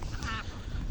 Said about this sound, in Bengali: এখানে হাঁস খাইতেছে